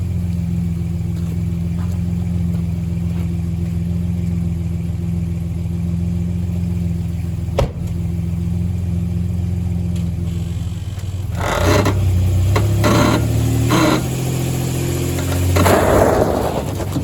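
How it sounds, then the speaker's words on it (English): A car engine idles steadily with its wheel parked on a small light during a durability test, then revs in several louder surges near the end; there is one sharp knock midway. "We're gonna go ahead and rev up the engine and just let it run."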